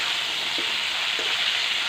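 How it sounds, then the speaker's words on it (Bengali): Cauliflower frying with potatoes in an oily pan, giving a steady, even sizzle that stays constant and close with no voices over it. "আমি এর উপরে এই ফুলকপিগুলো দিয়ে নেবো, নিয়ে ফুলকপিগুলো একটু লাল লাল করে ভেজে নেবো।"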